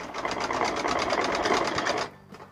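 A sewing machine stitches a sleeve into a suit, running steadily in a fast even rhythm for about two seconds before stopping abruptly, close and clear with no talk.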